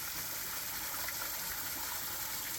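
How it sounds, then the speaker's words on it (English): A small cascading waterfall in Kentucky's Whitley County gives a steady, even rush of falling water, a continuous hiss heard alone with no voices. "Pretty little cascading waterfall right here."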